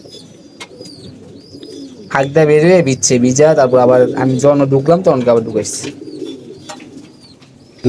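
Pigeons coo softly in a low, murmuring background at a backyard loft, while someone talks loudly in the foreground for most of the stretch.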